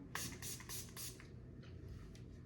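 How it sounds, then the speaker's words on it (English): A Makeup Revolution 16-hour matte setting spray gives four quick, soft hissing bursts in a row, close and fairly quiet, followed by faint handling noise. "I'm just going to spray that right on top just to set all this in."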